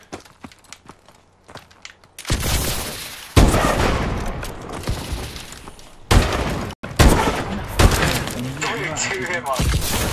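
Sniper rifle gunfire in Call of Duty: Advanced Warfare on PC cracks out as a handful of loud, sharp shots spaced a second or more apart, with clattering and footstep-like game noise between them.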